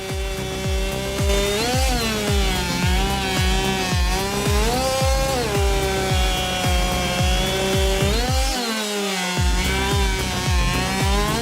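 Big chainsaw engine cutting through timber, a loud continuous buzzing whine that rises and dips in pitch as it bites into the wood, close and without speech.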